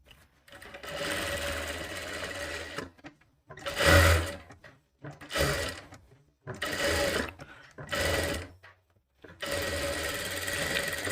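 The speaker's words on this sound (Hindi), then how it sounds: "ये देखिए इस तरीके से हमने सिलना शुरू कर दिया" A sewing machine stitches a katori blouse in close, loud runs of steady whirring, each lasting a couple of seconds with short silent gaps between them.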